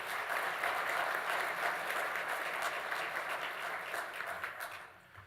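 A banquet audience applauds steadily for about five seconds, a dense wash of clapping hands that holds level and then tapers off at the end.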